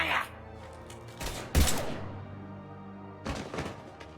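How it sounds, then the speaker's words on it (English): Gunfire in Mass Effect 3: a few separate heavy shots and thuds ring out, spaced apart with reverberant tails and a lingering low hum between them. "Now open fire!"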